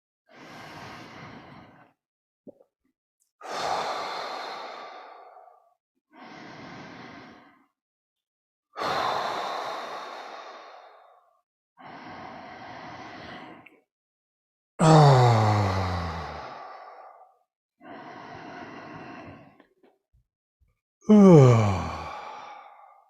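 Slow, deep breaths during a qigong reverse-breathing exercise, about eight separate long exhales or sighs spaced a couple of seconds apart, close and alone, some ending in a voiced groan-like tone.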